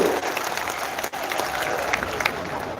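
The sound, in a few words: students applauding loudly for the education minister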